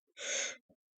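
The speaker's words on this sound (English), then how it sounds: "I keep yawning." A single drawn-out breathy yawn, rising and fading over about half a second, followed by a brief soft breath, heard close and alone.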